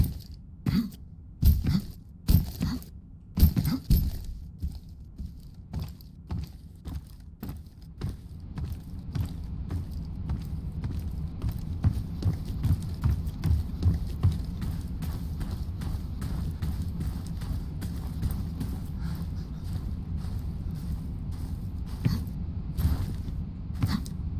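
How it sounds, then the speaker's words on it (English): Character footsteps from the survival game Polyaris, a steady run of soft thudding steps with irregular louder impacts early on, then a continuous even patter over a low rumbling bed, no talking. "we started adding character and footstep sounds"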